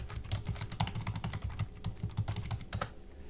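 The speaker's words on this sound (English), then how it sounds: "So I can type in top secret password." A password is typed on a computer keyboard in a quick, uneven run of light clicking keystrokes, close and fairly quiet, with no talking over it.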